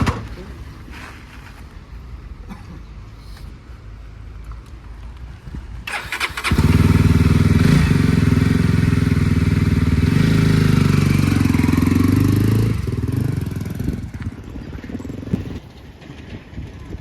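Royal Enfield GT650 motorcycle, just after its second service, cranks to life about a third of the way in and runs with a loud, close, steady engine note for several seconds before easing back to a quieter idle.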